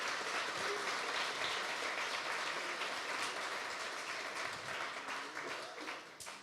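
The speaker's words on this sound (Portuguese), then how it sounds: "Você pode dar um aplauso a ele?" Congregation applause fills a church, a dense, steady wash of many hands clapping throughout, loud and sustained before tapering slightly near the end.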